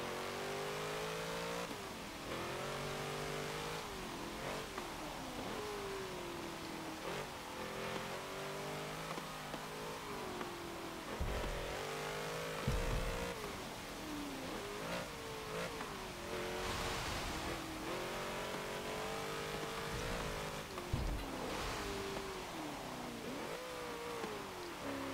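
A high-powered 1967 Volkswagen Karmann Ghia in Forza Motorsport 7 revs hard and continuously, its engine note rising and falling through gear changes with brief dips, loud and close throughout.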